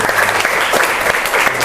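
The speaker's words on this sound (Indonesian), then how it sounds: "mari kita tepuk tangan untuk Zen dan Fatih." A classroom of students claps together in a dense, steady burst of applause at close range, with no talk over it.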